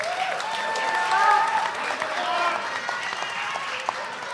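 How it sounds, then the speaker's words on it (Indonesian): Audience applause for the three candidate pairs at a televised Jogja mayoral candidate Q&A debate, a steady, dense clapping crowd sustained throughout with a slight swell near the middle. "hadirin serta pemirsa boleh kita berikan tepuk tangan sekali lagi untuk paslon nomor urut 1"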